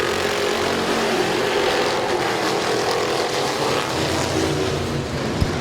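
Race cars at Midvale Speedway thunder off the green flag start, a dense, continuous engine roar from a pack of cars accelerating together, loud and steady throughout.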